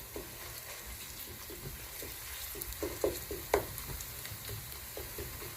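Ginger and garlic fry in a pan with a soft continuous sizzle, while a utensil scrapes and taps in a loose run of light strokes, fairly quiet and without speech.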